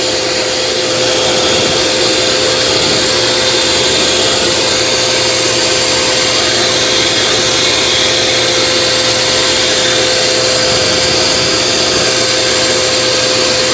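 Eufy E28 robot vacuum and mop running, a loud continuous whirring motor drone with a steady whine, unchanging and close throughout.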